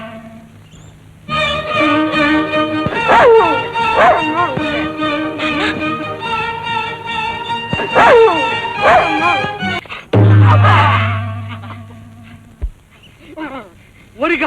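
A dog in a Telugu comedy scene barks and yelps in repeated loud bursts, layered over background music with voices talking nearby.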